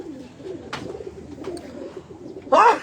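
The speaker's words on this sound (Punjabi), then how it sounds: "ਲੇਕਿਨ ਦੇਖ ਲਓ ਬਟੇਰੇ ਕਬੂਤਰ ਆ" Rare breeder pigeons in a Faisalabad loft give soft, low cooing calls over faint background murmur, ending in a louder, closer burst of cooing.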